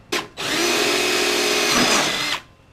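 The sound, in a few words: power tool removing a fender bolt on a Honda Pilot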